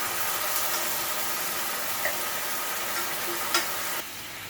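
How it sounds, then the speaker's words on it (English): Pasta sauce hits a hot skillet and sizzles, a steady loud hiss with a few faint clinks, dropping to a quieter simmer at the end. "So I'm going to add all my sauce into that skillet."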